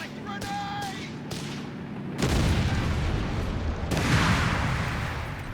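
Grenade explosion in Company of Heroes 3, a loud broadband boom two seconds in followed by a second swell of blast noise, amid continuous battle rumble with a caster's voice talking over it.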